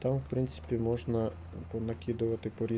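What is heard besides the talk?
No distinct noise like a dog, phone or traffic.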